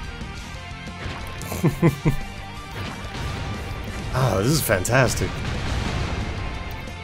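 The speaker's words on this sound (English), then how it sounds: "Oh, it's just explodey barrel things." Barrels blow up in the side-scrolling action game Broforce. A quick cluster of crashing blasts is followed a few seconds later by a second, heavier burst, over a constant background of game noise, while someone talks excitedly.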